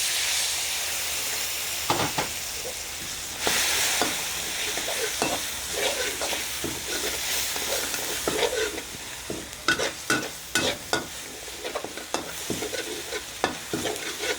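Catfish stir-fried with curry paste and a splash of clean water, sizzling steadily while a spatula scrapes and clatters in quick bursts against the pan, close up and fairly loud, with no voices.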